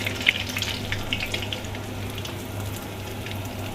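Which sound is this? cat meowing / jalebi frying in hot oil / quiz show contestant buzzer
jalebi frying in hot oil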